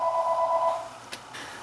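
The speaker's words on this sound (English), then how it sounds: "Okay, the phone was ringing." A telephone rings indoors with one short electronic tone that fades out, followed by faint clicks in a quiet room.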